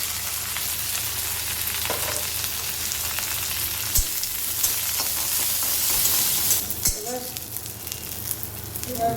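Mustard seeds and curry leaves fry in hot oil for chutney tempering, a steady dense sizzle with scattered pops and crackles, plus a couple of sharp louder spits near the middle and later.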